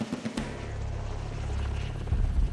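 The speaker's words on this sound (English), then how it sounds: "The helicopter mission took a company and inserted them on UH-60 Blackhawks" UH-60 Black Hawk military helicopter on an insertion mission in jungle terrain, a steady low rotor and engine drone that swells slightly louder over a couple of seconds, with a few brief knocks at the start.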